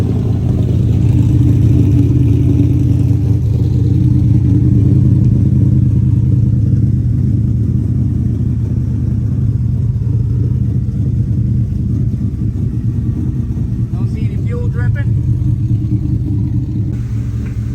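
A 1999-2004 Ford Mustang engine, freshly fitted with a DeatschWerks DW300M fuel pump, runs steadily with a deep, loud idle rumble that holds throughout.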